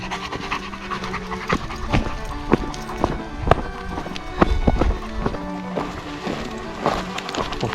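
Dog panting hard while running on a rocky mountain trail, steady rapid breaths close by with footfalls and scattered clatter of paws on loose stones.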